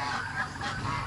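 Geese honk repeatedly in a short, steady run of nasal calls, fairly close and loud, kept on a farm alongside turkeys, ducks and guinea fowl.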